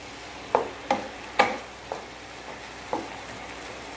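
Sweet and sour eggs are stir-fried in a pan, with a soft steady sizzle punctuated by half a dozen sharp scraping and stirring strokes spaced about half a second apart.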